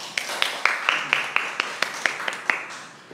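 Sparse, scattered clapping from a small audience at a university talk, about a dozen separate claps spread evenly over a few seconds, fairly close and moderate in loudness.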